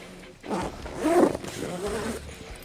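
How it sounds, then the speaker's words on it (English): A zipper on a Santa Maria grill cover made for a Lone Star Grillz grill is pulled down in a few rough, rasping strokes, close and fairly loud, with faint background noise. "You zip it down over here."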